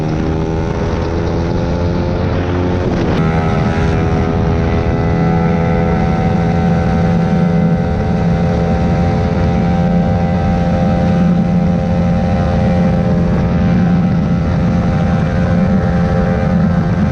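A sport motorcycle engine held at high, steady revs at full throttle on an open road, loud and continuous throughout, with a brief gear-change dip early on and a constant droning whine.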